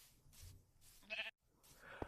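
A sheep bleats in the Minecraft video game, with a couple of short, quiet bleats followed by a sharper burst and a final brief, thin call.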